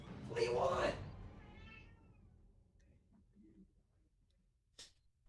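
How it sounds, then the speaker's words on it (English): A house cat gives a clear, loud meow up close, followed by quieter background sounds and a faint later noise. "Ah. Cat."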